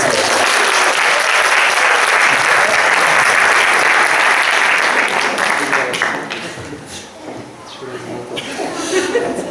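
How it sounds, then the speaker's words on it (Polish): Loud, dense applause from a large crowd, sustained for several seconds before tapering off into scattered clapping and murmuring. "Ja bardzo proszę o brawa dla nas."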